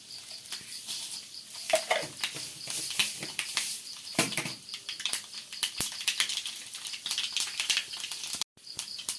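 Fenugreek and mustard seeds crackle and sizzle in hot oil for a Kerala pineapple pulissery, a dense steady frying hiss broken by sharp popping bursts of the seeds, close and fairly loud throughout with a brief drop near the end.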